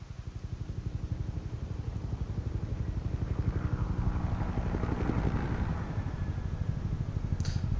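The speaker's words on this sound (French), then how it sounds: "Un hélicoptère." A helicopter passes overhead, its rotor thumping in a steady rapid rhythm that swells louder toward the middle and stays strong throughout, with no talking.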